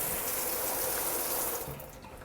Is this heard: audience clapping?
no